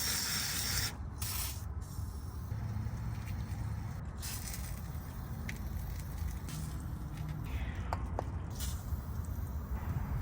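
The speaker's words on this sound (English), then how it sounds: "I'll go ahead and add some WD-40 to the torsion bars in the front and rear" WD-40 sprayed onto the front and rear torsion bars of a 2000-2006 Tahoe, short hissing aerosol bursts over steady background noise in a garage.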